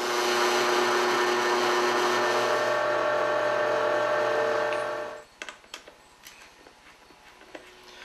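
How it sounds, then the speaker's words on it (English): Power drill boring a hole in wood during a woodworking build, a loud steady whine held for about five seconds, then cutting off to quiet clatter and small handling knocks. "I'll go ahead and drill that."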